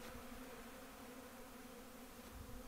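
Bees buzz around sugar feeders at an apiary in early spring, a faint, steady, continuous hum of many insects with no voices.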